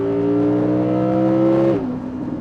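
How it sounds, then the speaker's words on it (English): Audi R8 Performance Spyder engine revving under a throttle prod, a loud sustained rising harmonic engine note that drops suddenly as the revs fall away near the end, with no talk. "let's have a little prod on the throttle."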